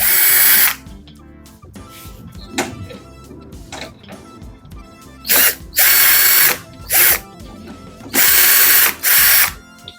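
A power driver backs out two screws from the top cover of a Panasonic washing machine. It gives loud, whirring, ratcheting bursts in several short spurts, separated by quieter handling noises and gaps.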